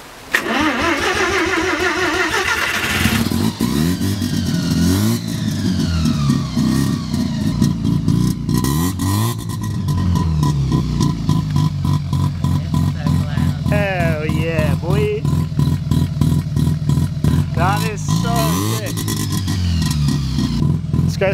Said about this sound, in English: We're going to start this car up and listen to